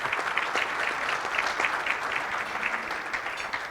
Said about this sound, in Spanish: a Pancho Córdoba, sí, un aplauso.